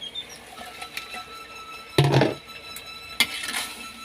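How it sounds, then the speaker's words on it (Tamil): A few light utensil clinks, then a burst of sizzling as chopped green chilies and onion drop into a hot pan, followed by a second brief sizzle. "இப்போ பாருங்க நறுக்கி வச்சுக்கிற பச்சை மிளகாய் வெங்காயம் போட போகிறோம்"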